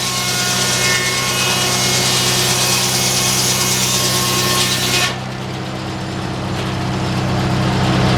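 An old-fashioned sawmill at the Mason Dixon Show cuts through wood with a loud, close, continuous rasping whine that suddenly drops in intensity as the blade clears the log, then carries on more quietly.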